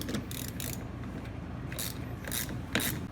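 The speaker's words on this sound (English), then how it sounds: "the first thing you want to do is just remove the clamps off your battery posts" Battery terminal clamps are worked off vehicle battery posts with a wrench, producing faint mechanical clicks and short metallic scraping bursts over a steady low background, close and quiet without speech.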